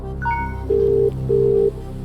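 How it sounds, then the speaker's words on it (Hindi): A phone call is placed on a television quiz show: brief dialing tones, then two steady, evenly spaced ringback tones, loud and clear over low studio ambience. "पीडी शर्मा साहब को फोन लगाया जाए"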